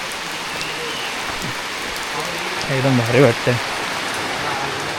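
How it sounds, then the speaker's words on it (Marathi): Heavy monsoon rain pours on the way to a friend's village between Phungus and Sangameshwar: a steady, dense hiss of falling water throughout, with people talking briefly over it near the middle. "पावसाला जोरदार सुरुवात झाली आहे"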